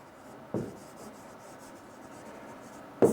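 Marker or chalk scratches briefly on a board as a teacher writes during a geography lesson: a short stroke near the start, a faint quiet rub, then another sharp stroke at the end, close and quiet in an otherwise still room.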